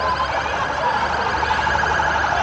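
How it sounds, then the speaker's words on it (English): A wailing siren sweeps up and down continuously, loud and fairly close, with rapid warbling over a constant background rumble. "Another police car is coming through the area."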